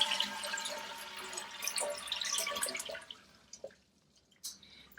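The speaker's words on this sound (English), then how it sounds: "The next thing I'm going to do is completely flush this toilet and make sure the water is all out." A household toilet being flushed during a bolt and gasket ring replacement, water rushing and gurgling loudly for about three seconds, then tapering to faint trickles and a brief splash near the end.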